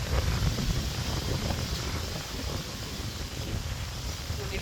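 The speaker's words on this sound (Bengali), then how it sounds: "কি পরিমাণ বাতাস হইতেছে" A strong outdoor wind blows steadily as a broad rushing roar, buffeting the microphone and rising and falling slightly in strength.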